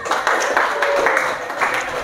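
Students in a classroom give group 1 a round of applause, a brief, dense patter of many hands clapping with some voices mixed in.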